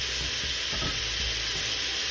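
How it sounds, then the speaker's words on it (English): Beef browns in an Instant Pot on the high sauté setting for Puerto Rican beef stew, giving a loud, dense, unbroken sizzle close up with no other sounds. "I put the Instapot in the saute setting, the high"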